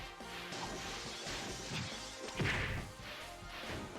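Whip attacks land in the action game Koumajou Remilia: Scarlet Symphony, with sharp cracking lashes and thwacks over a dense, loud game soundtrack and crashing effects, several strikes in quick succession.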